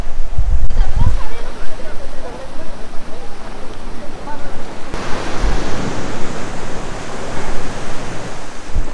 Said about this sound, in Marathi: पाण्याचा लाटांचा जो आवाज येतोय ना